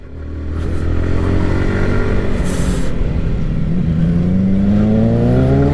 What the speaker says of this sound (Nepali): कस्तो आवाज आएको थियो बाइकको